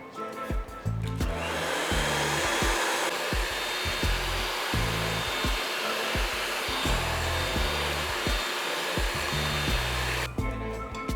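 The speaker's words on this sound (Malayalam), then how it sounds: "ഇത് നമുക്ക് കുറേശ്ശെ ആയിട്ട് ഇട്ട് കൊടുത്ത് മുട്ടയുടെ കൂടെ അടിച്ചെടുക്കാം." An electric hand mixer whirs steadily, beating eggs with granulated sugar for a carrot cake, with a loud continuous motor drone and faint rhythmic scraping against the bowl throughout.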